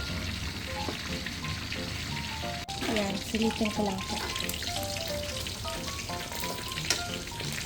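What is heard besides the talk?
pork belly frying in oil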